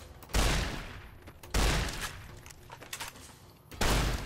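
A shotgun fires in Fallout New Vegas, three loud, sharp booming blasts spaced over a few seconds, each trailing into a rough noisy decay amid combat sounds.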